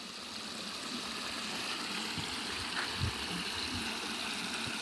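Water trickles and flows through holes in an old stone wall near a stream, a steady soft rushing wash with faint low knocks beneath it.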